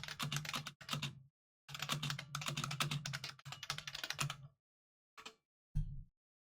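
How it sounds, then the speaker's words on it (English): Bursts of typing on a computer keyboard, close and distinct, clattering keystrokes in several runs with short pauses, ending in a few isolated taps; no talking. "getting you to listen to my beautiful keyboard"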